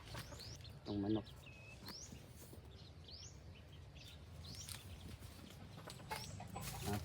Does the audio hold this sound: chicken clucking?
yes